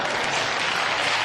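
Audience applause at a public debate on religion, a brief dense burst of clapping from a crowd, steady and fairly loud throughout.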